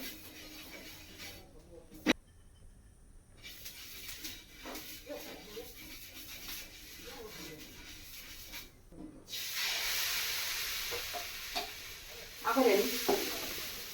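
Pitha frying in oil in a pan, a steady hiss and sizzle with stirring and scraping noises and a sharp knock early on, the sizzle swelling louder near the end, close by, with someone talking at times.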